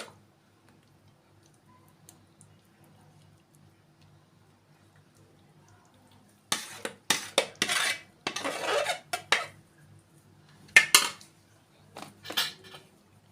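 Béchamel sauce spooned over macaroni in a baking dish, heard as a quiet stretch followed by bursts of spoon clinks and scrapes against the dish, close and fairly loud.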